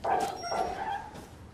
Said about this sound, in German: Hund gerade bellen gehört, ihr auch?